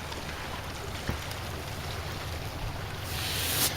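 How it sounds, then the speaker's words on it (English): A river flows past in a constant broadband rush of water, a steady mid-level wash with a brief splash near the start and a brighter surge of spray toward the end, with no talking. "I'm down here by the river again"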